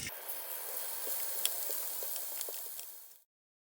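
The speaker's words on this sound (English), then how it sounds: "Cook your pork on the pan." Pork belly sizzling in a pan makes a soft, even hiss with occasional crackling pops, then cuts off abruptly into silence.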